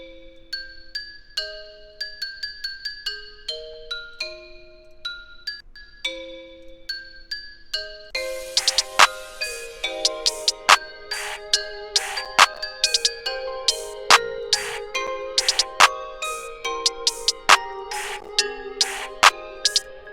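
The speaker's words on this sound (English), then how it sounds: "Since these are bells, they're gonna have a lot of resonance, ringing type of annoying frequencies" Bright chiming bell tones play a rhythmic melodic pattern, sparse at first, then joined by sharp percussive hits in a steady, louder beat.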